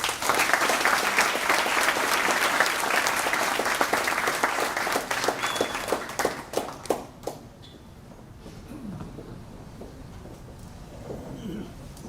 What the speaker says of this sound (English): I don't think that round of applause is enough